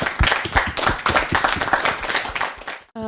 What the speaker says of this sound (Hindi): तालियों में कंजूसी नहीं होनी चाहिए भाई